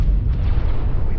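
Explosions and heavy fire in a space battle from the Star Wars: Warlords mod, with a Star Destroyer and bombers involved: a brief, dense, continuous low rumble of blasts, loud and close.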